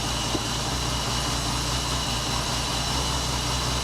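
A long-dormant BMW barn-find engine idles in neutral, holding a steady, even drone with a constant low hum and no changes in revs.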